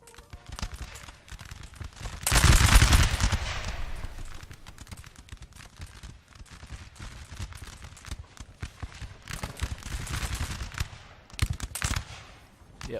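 Musket volleys crackle through a prolonged firefight in Napoleon: Total War's Battle of Talavera, a loud close volley followed by scattered, rippling shots near and far, with faint talk underneath at times.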